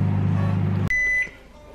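A microwave oven hums steadily while cooking microwave crisps, then falls quiet with a single clear electronic beep as it finishes, followed by a faint low room tone.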